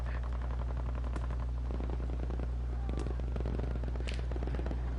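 Tank shells and gunfire in a video game sound as a continuous rattle of rapid shots over a deep engine drone, with several heavier blasts standing out.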